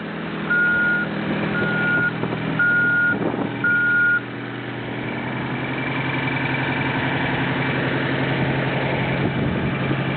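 An American LaFrance fire truck stuck in mud idles with a heavy, steady diesel rumble while a series of reversing beeps sounds early on, then the engine drones on alone, close and fairly loud.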